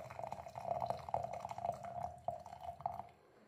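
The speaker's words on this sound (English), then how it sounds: "You're going to put about 3 centimetres of boiling water, or very hot water, into your jar." Boiling water pours into a glass jar, a faint, short trickle and splash lasting a few seconds before tapering off.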